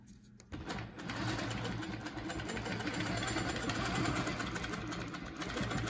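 Sewing machine stitching along a ruler on a quilt, a fast, even mechanical whir that starts abruptly and runs steadily up close.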